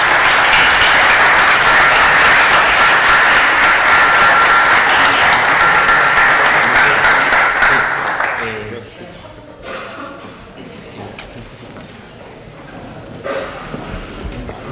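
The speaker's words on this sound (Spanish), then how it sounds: "Otro aplauso para los nuevos miembros" Audience at a formal talk gives dense, sustained applause that lasts about eight seconds and then fades to scattered claps, murmuring and voices.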